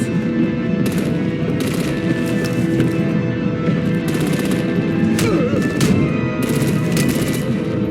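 Loud rapid bursts of artillery gunfire from the Batman: The Enemy Within video game crackle repeatedly over a dense, steady battle din.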